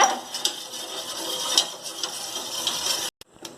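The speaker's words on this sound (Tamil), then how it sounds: "அதனால இந்த மாதிரி கைவிடாமல் கலக்கிட்டே இருங்க" Chocolate custard pudding mixture stirred continuously in a pan on the stove, a spoon scraping and clinking against the metal with soft bubbling, close and steady, briefly cutting out near the end.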